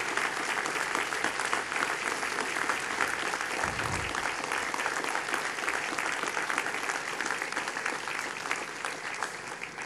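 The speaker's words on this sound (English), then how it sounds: "and let's give them a round of applause." A crowd gathered at a vigil on an outdoor city square applauds in a dense, steady wash of clapping that carries on for about ten seconds, with scattered voices beneath it.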